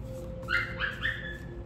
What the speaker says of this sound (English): I don't know what y'all barking for.